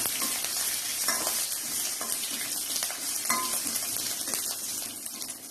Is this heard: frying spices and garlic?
yes